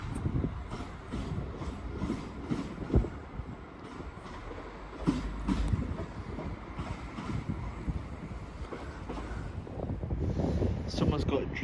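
A Class 172 diesel train, unit 172217, pulls away from Leamington Spa railway station on the Coventry line, its low rumble building steadily under wind noise on the microphone and a person talking close by.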